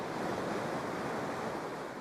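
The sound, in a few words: ocean waves washing onto a beach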